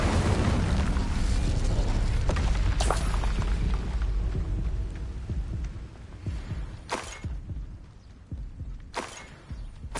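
A fire spell blasts in the video game Hogwarts Legacy on PS5: a loud, roaring, sustained burst with sharp crackling flares near three and seven seconds and again near nine, fading somewhat toward the end.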